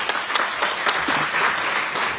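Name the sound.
applause for the conference organizing team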